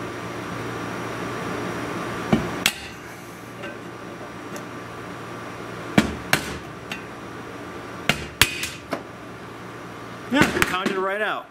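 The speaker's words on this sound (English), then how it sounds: "I apply a little bit of pressure to the backside of the rivet, a little bit of percussive therapy." Sharp hammer blows knock a rivet out of a 1932 Delco 16-inch fan, a few scattered metallic strikes over a low hum, then a quick cluster of taps near the end.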